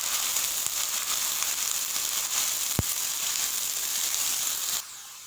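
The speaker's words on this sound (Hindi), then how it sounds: "इसमें आप लोगों ने शामिल करने हैं प्याज, जो बिल्कुल बारीक बारीक आप लोगों ने काट लेने हैं।" Finely chopped onions frying in oil in a pan for chana dal keema, a steady close sizzle with crackling pops and one sharp click before the hiss suddenly drops away near the end.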